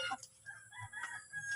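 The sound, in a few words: breed chickens clucking and crowing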